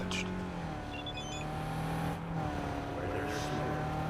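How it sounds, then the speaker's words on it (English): A car in the video game Cyberpunk 2077, with modded handling, is driven fast. Its engine hums steadily, broken by a brief high screech early on and short whooshing bursts. "When you start really going fast on this car, you notice that the turning radius is pretty bad."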